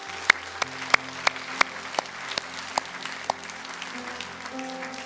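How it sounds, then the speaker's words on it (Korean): A church congregation at Irvine Onnuri Church's Sunday service claps in slow, regular unison beats over sustained organ-like music, the sharp claps evenly spaced and fairly close. "우리 하나님께 큰 감사의 박수 올리겠습니다"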